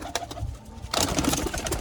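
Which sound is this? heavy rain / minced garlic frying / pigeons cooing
pigeons cooing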